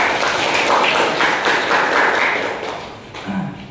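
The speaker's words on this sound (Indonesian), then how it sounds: "Tepuk tangan buat kita ya." Classroom students clapping together in a short burst, a dense rhythmic patter of many hands close by that fades toward the end, with a brief voice at the close.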